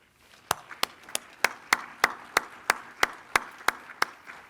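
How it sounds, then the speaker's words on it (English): Hand claps at a heavy equipment campus commencement for the class of 2021, a sparse run of about twelve sharp, evenly spaced claps, close and distinct rather than a full crowd wash. "Let's give them a big round of applause."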